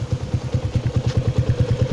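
A Yamaha Jupiter MX135 motorcycle with an SHM aftermarket exhaust idles close by, giving a steady, rapid, loud thumping pulse from the exhaust.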